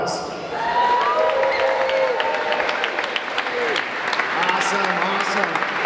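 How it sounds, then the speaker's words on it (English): A town hall audience in San Francisco gives a sustained round of applause with some cheering, steady and fairly loud throughout, with a voice speaking over the clapping. "so give her a round of applause."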